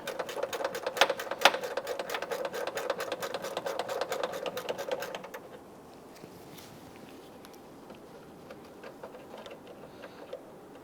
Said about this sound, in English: Now I'm just going to use my gear wrench in here for clearance purposes.